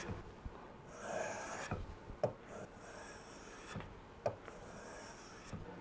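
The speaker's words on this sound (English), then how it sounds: "I've got the stock all marked up now where I want to put bevels in, and I'm going to start carving them in now" A wooden stock for a stone bow being carved to cut bevels, giving repeated rasping, scraping strokes in bursts with sharp knocks between them, close and fairly quiet with no talking.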